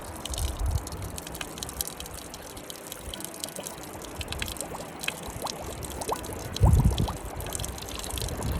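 Water overflowing from a full water tank out on a trail, a steady close splashing trickle with scattered drips and a brief louder gush near the end.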